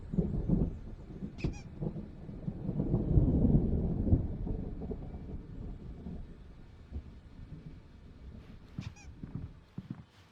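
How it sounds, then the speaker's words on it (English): A low, rumbling thunder roll swells and fades within a stormy video-game scene from Alan Wake, with rain and a few faint higher sounds around it. "There's a storm coming. Oh, what a storm."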